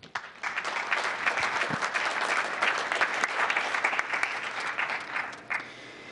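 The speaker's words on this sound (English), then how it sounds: "Let's give them all a round of applause." An audience at a civic gathering with the mayor gives sustained applause, a dense, even patter of many hands clapping. It starts quickly, holds steady for several seconds and then tapers slightly, with no speech over it.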